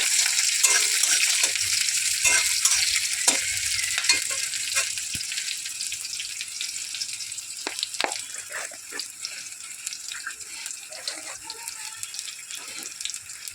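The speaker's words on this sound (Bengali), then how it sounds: "দিয়ে একটু ভাজা ভাজা হয়ে যাবে" Onion frying with cumin in oil in a pan, sizzling and crackling with stirring clinks and scrapes, steady frying noise and short clattering knocks.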